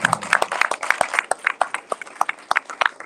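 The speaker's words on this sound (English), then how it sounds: "Y'all give a round of applause" An audience at a community awards event applauds an award recipient, with lively uneven clapping from a modest crowd that is close and fairly loud, individual hand claps distinct throughout.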